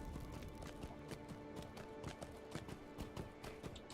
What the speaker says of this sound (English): I'm going to have to ride my horse all the way up to the High Pass.